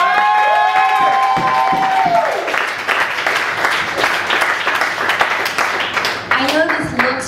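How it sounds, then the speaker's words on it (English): A comedy-show audience breaks into applause and cheering for the comedians, a crowd of clapping hands swelling after a rising vocal cry at the start, with some talk and shouts mixed in. "Let's have a round of applause for all the previous comedians."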